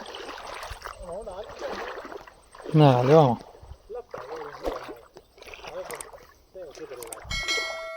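Feet splash and slosh through floodwater covering a road between rain-soaked farm fields, with a loud churning burst in the middle. People talk throughout.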